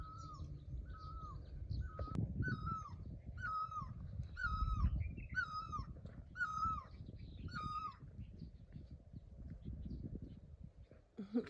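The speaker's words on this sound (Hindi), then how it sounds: "और अब आपको चिड़ियों की आवाज़ सुननी है।" Repeated harsh cawing calls from crows, evenly spaced, over a steady low rumble of outdoor background noise.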